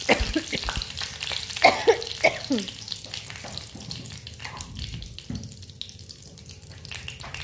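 Panch phoron, a dried chili and bay leaf sizzle in hot oil for Assamese khar bhat, a crackling fry with scattered pops and clinks of a stirring spoon near the start, easing to a softer steady hiss.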